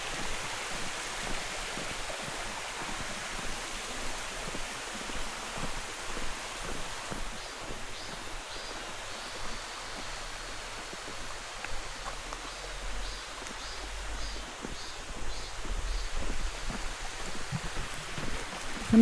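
Mountain valley stream flowing steadily on the Unaksan trail near Hyeondeungsa, a continuous close rush of water with full broadband hiss, no voices.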